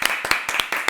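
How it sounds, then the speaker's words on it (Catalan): A small group claps in a quick irregular rhythm, sharp close hand slaps spaced unevenly across a brief burst. "aplaudiment pel Marc,"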